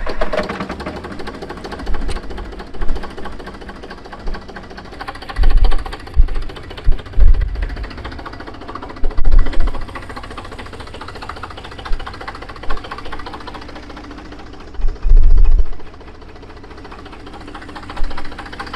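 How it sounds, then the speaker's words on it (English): An Eicher 3709 tractor with a 3-cylinder air-cooled engine of 35 to 38 horsepower runs close by with a rapid, rattling clatter, punctuated by repeated louder low thumps and surges. "So the engine is a 3-cylinder air-cooled engine, and it has only 35 or 38 horsepower."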